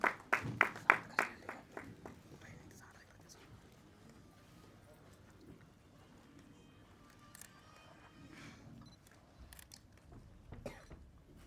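A burst of audience clapping greets a guest called onto the stage at a film trailer launch event, loud sharp claps in the first two seconds fading into quieter crowd murmur and scattered talk.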